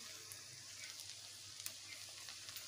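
Spices fry in hot oil in a pan with salt, turmeric and Kashmiri chili powder for a potato and shing fish curry, giving a faint, steady sizzle with soft crackles throughout.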